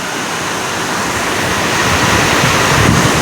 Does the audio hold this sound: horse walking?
no